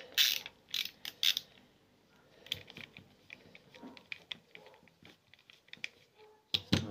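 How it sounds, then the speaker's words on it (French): Tools work a nut loose behind the wheel inside a De'Longhi ESAM04 110 S coffee machine, giving a string of close, irregular clicks and ratcheting rattles separated by short pauses. "j'arrive à desserrer effectivement l'écrou qui est derrière"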